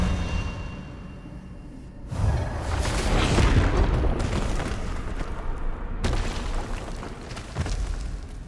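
A loud spell blast from the Hogwarts Legacy video game, a sustained roaring rush with a sudden surge, a brief dip, then a second heavy wave of crackling energy.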